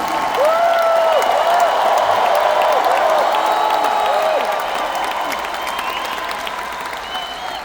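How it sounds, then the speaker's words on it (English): Audience applause and shouts fill a large hall at a Tim Storey event in Edmonton, Canada: dense, steady clapping with whoops and cheering voices rising over it, loud and sustained before easing slightly toward the end. "Somebody clap your hands and shout if you believe it."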